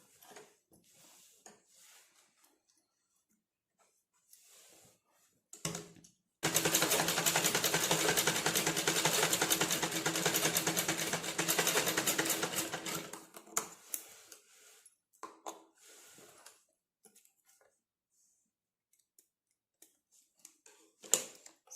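A sewing machine stitches the lining cloth of an aari work blouse, running in one steady, loud burst of about six seconds, with quiet handling and fabric rustles before and after.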